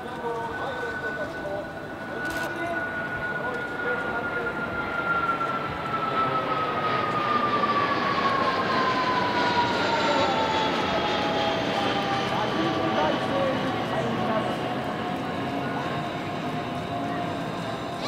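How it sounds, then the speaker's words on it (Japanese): A T-400 jet trainer, based on a Beechcraft business jet, comes in to land at an air base during an air show, its engine whine steady and moderately distant with a slowly falling pitch for the whole span. "この T400 はビーチクラフト社製の民間ビジネスジェット機がベースとなっています。"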